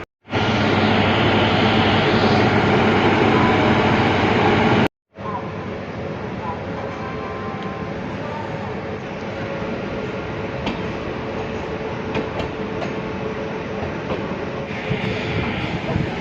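An Indian Railways Duronto express departs a station platform, a steady low rumble of rolling coaches and locomotive with faint rattles and clunks, after a loud opening burst of noise and a brief cut.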